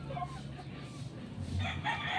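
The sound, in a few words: rooster crowing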